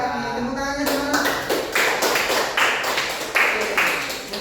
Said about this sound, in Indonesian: Tepuk tangannya semua.